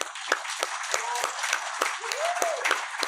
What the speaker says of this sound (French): j'avais envie qu'on applaudisse tous ces gens-là qui travaillent fort à rendre cette émission-là possible